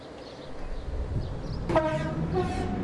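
A train in the Transport Fever game rumbles along steadily in the background. Partway through, a horn blasts sharply and then rings on as tones that fade away.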